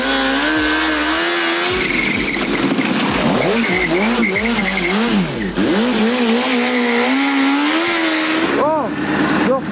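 A motorcycle drift demonstration during a motorcycle licence stunt session, with the engine revving up and down and tires skidding and squealing in repeated bursts, loud and close.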